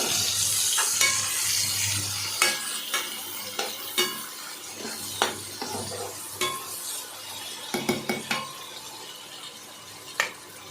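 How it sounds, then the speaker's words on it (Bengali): Onions frying in oil in a cooking pot, a steady soft sizzle broken by repeated sharp scrapes and clinks of a stirring utensil against the pan, close and fairly quiet, with no talk. "পেঁয়াজগুলোকে ভালো করে ভাজা হচ্ছে"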